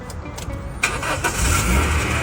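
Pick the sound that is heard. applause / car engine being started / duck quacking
car engine being started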